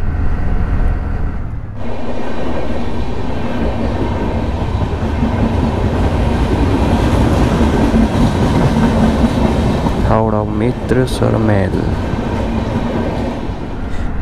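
A train rumbles loudly and continuously across the rail bridge at Pora Bazar station, a steady heavy roar with rail clatter, then a brief voice near the end.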